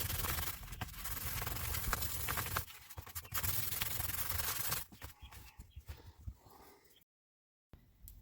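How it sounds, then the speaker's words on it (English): Steady rubbing and scraping of light grit sandpaper against corroded metal on a boat thruster's propeller hub, nuts and washer, loud continuous strokes that turn into choppier scratches before a brief silence. "I used some light grit sandpaper and just a screwdriver or a pick, whatever you have, to clean corrosion off the nuts, the washer, and the hub of the propeller"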